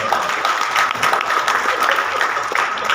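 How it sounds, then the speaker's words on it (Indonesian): An audience claps steadily for a man at a motivational talk, a dense, even wash of applause with no break through the whole stretch. "Kasih tepuk tangan dulu buat Bapak."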